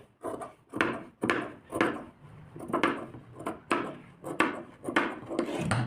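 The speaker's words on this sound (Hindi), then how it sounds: "अब जो एक्स्ट्रा फैब्रिक है उसको कट कर देंगे हम" Scissors cut through extra lehenga blouse fabric in a steady series of about a dozen crisp snips, close and distinct against a quiet background.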